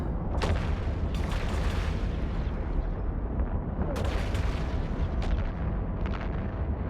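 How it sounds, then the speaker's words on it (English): Missiles launch and explode continuously in a space battle in EVE Online, a dense roar of booming, rumbling blasts with repeated sharper impacts, loud and unbroken throughout. "Let's go and get these missiles applying again."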